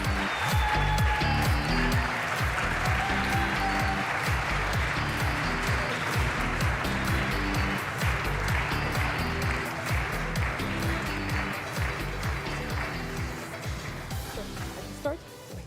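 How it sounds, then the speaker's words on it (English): Audience applause at the European Charlemagne Youth Prize 2023 ceremony in Aachen as national delegations take the stage, sustained steady clapping throughout with music playing underneath, fading slightly toward the end. "A big round of applause"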